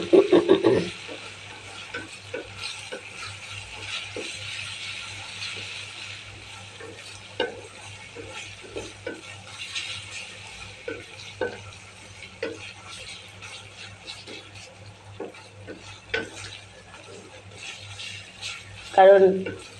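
Ginger garlic paste frying with bitter gourd and dried shrimp, a low sizzle beneath repeated scraping and stirring strokes of a spatula in the pan, close by.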